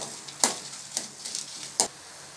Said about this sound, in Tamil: இது எல்லாத்தையும் எண்ணெயில் சேர்த்துட்றேன். இது அப்படியே பொரிஞ்சு வரட்டும்.